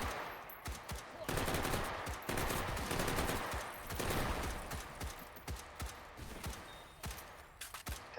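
Rapid bursts of M16-style rifle fire in a video game, quick cracking shots in clusters at moderate distance, with other game sounds mixed in.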